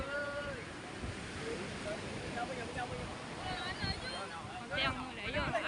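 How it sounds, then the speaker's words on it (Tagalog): Large ocean waves roll on the open sea near a small fishing bangka, making a steady broadband roar of surf mixed with wind buffeting the microphone, with voices faintly present in the background. "Sobrang lalaki po ng alon."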